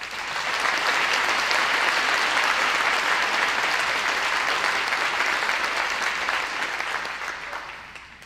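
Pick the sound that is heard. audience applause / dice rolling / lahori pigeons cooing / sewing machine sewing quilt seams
audience applause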